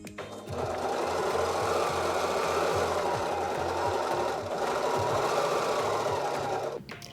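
A sewing machine runs continuously while quilting a Frosted Petals quilt, a steady close whirring stitch rhythm that starts, holds for several seconds, then stops.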